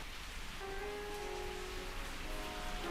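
Unseasonal rain falls steadily on a garden patio under a large avocado tree in Bangalore, a soft even hiss with faint tonal hums in the background and no talk.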